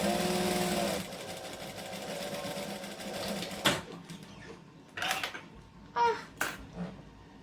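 A sewing machine stitches along the edge of a shirt from a Burda 6840 pattern, running in a steady whir for about three seconds, then breaking into short separate bursts as the fabric is guided.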